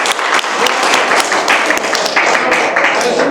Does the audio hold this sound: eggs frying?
no